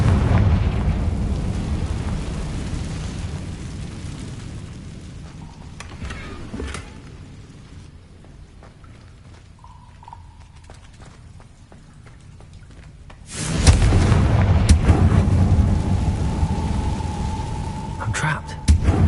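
Confringo fire spells in the Hogwarts Legacy video game erupt in two heavy, rumbling blasts, one at the start and another later, separated by a quieter stretch of faint game ambience and small clicks.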